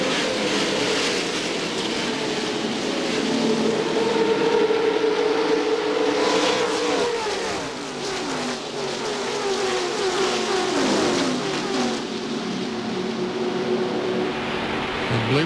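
NASCAR stock cars accelerating at the 1998 DieHard 500 race, a loud, continuous roar of many engines with rising and falling pitch sweeps as cars pass, with no voices.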